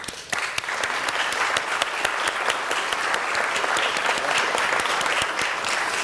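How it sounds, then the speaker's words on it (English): A city council chamber audience gives a sustained, loud round of applause honoring public servants, dense clapping from many hands holding steady throughout. "give these folks a big, big round of applause"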